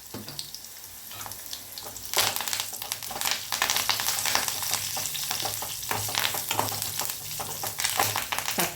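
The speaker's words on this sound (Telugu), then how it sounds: "ఇప్పుడు ఇందులో మనం వెల్లుల్లి రెబ్బలు, కరివేపాకు వేస్తున్నాను." Garlic cloves, curry leaves and a pinch of asafoetida sizzle in hot oil for a tadka for cucumber-tomato dal, a steady close crackling fry with stirring scrapes that grows louder after the ingredients drop in.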